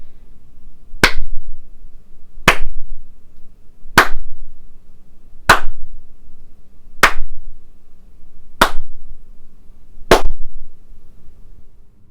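Seven crisp, dry hand claps at steady intervals in a home theater room with acoustic treatment, each snap short and dead with no lingering echo, loud over a faint low hum.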